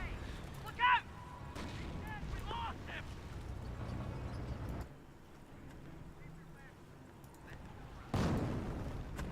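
Deep, booming mortar rounds from a half-track in the real-time strategy game Company of Heroes, with one sharp blast early and another near the end, set over a steady battlefield rumble and a voice talking.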